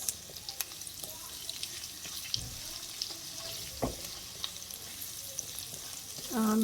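Ginger sizzles in hot oil in a pan, a constant close crackling hiss with a few sharper spits and stirring clatters, with almost no talk over it.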